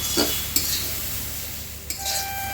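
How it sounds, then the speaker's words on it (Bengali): Chopped onion, salt and turmeric powder are worked by hand into a ground rice paste for pumpkin-leaf paturi with dried sardines, giving a few soft, close scrapes and light clicks against a quiet background. "এখন সব কিছু একসাথে করে মেখে নিব।"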